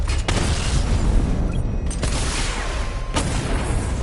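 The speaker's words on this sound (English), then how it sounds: "Destroy targets to charge up weapon energy and activate missile barrage." A missile barrage fires in the video game Batman Arkham Knight, making a dense, continuous roar of loud booming blasts with a few sharper bursts standing out, and no talking.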